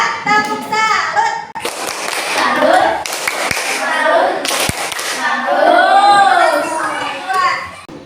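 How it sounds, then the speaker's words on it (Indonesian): Children in a classroom, a school science group, perform a rhythmic tepuk salut clapping chant together, loud and close, with clustered hand claps mixed into their chanting voices. "Beri tepuk salut untuk kelompok dua. Tepuk salut."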